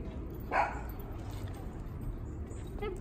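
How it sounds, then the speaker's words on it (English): A dog barks in the distance, one faint bark early and a fainter yip near the end, over quiet outdoor background hiss. "You see in the distance there's a dog who's barking at me."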